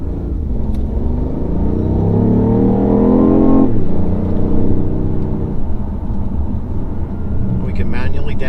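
A BMW i8 with a modified exhaust accelerates uphill in comfort mode, a steady droning engine note rising in pitch over several seconds, then dropping briefly before building again, close and loud throughout.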